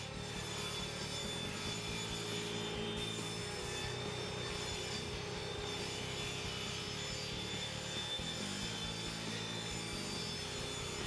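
Power sawing of wood as cabinet tops and bottoms are cut to size for a book storage build, a steady continuous cutting drone with a couple of short pauses and changes in load, no voices.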